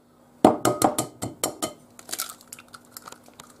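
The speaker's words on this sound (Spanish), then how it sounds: "los 8 huevos y los tenemos que batir" Eight eggs beaten in a bowl with a utensil for a farmhouse-style Spanish tortilla, a quick run of sharp rhythmic clinks against the bowl that start loud and grow lighter and more scattered.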